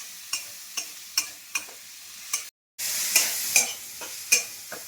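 Onions frying in a pan for chicken soup, a soft sizzle broken by regular scraping strokes of a spoon stirring, a short gap, then louder, denser sizzling with more stirring; no voices.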